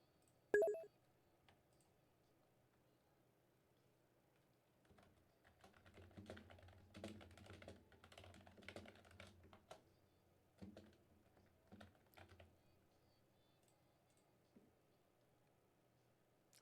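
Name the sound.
typing on a computer keyboard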